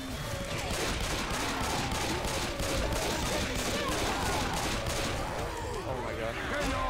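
Sustained gunfire in a team shooter game is aimed at a tank, with rapid overlapping shots in a loud, continuous barrage and voices talking underneath.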